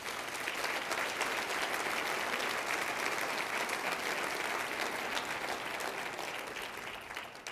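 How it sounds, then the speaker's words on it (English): A crowd at a celebration dinner breaks into applause: broad, continuous clapping from many people that stays full and even for about seven seconds, then tapers off slightly at the end. "That deserves a round of applause."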